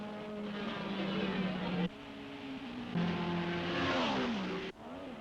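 Racing cars of the 1961 Belgian Grand Prix roar past one after another, engines rising and falling in pitch, with a distant, old-recording quality and a narrator talking over them.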